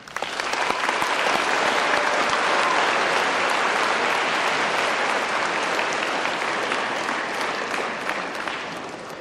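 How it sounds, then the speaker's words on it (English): A large audience at a high school Veterans Day program bursts into sustained, loud applause to welcome a speaker, with dense clapping that holds steady for several seconds before easing slightly. "join me in welcoming Colonel William R."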